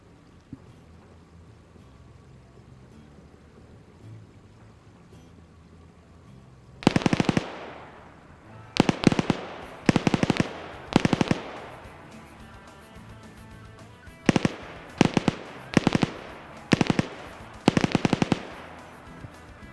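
Anti-tank weapons fire in a video game battle, several loud sharp bursts in quick clusters, each cracking out with a ringing decay over a quiet background.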